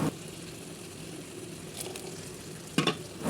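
Chopped tomatoes go into spices frying in a pan for a koi fish curry, making a faint steady sizzle with a few quick clatters of a utensil near the end.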